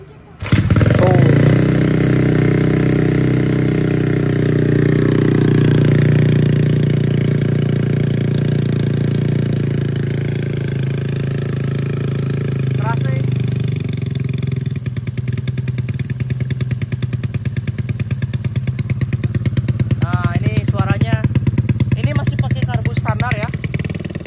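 A race-tuned 130 cc everyday motorcycle engine starts with a jolt and settles into a loud, steady idle, its throaty rumble holding close and constant, with light blips of revving near the end.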